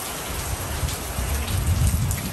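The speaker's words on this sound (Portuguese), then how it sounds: "Agora a chuva já deu uma tréguinha" Steady rain falls and patters on nearby surfaces in a cold setting in Brazil, a dense, close hiss with low thuds of drops and no voices.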